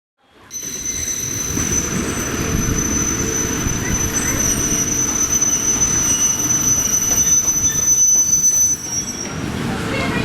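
A train runs on a dangerous railway with loud, continuous wheel rumble and a thin, high metallic squeal from the wheels, heard close and steady throughout.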